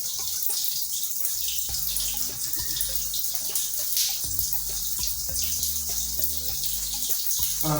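Running water pours steadily from a tap while hair is washed, a continuous hiss with small splashes and drips close by.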